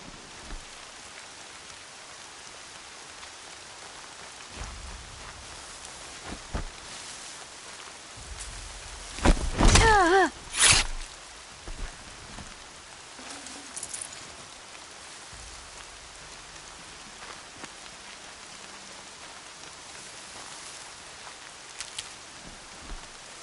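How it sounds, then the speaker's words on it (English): Rain falls steadily in the video game Horizon Zero Dawn, a soft continuous hiss of drops that goes on throughout, broken around the middle by a burst of louder crackling sounds before the gentle downpour settles again. "More rain. My boots will get damp."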